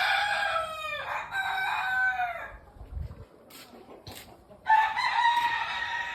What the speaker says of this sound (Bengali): আমরা পালি বিদেশি মুরগি।